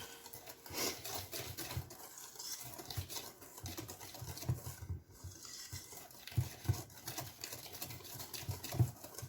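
Homemade brownie batter is stirred into a chocolate mixture in a bowl, a repeated rubbing, scraping rhythm of the spoon against the bowl, close and soft, with no talking.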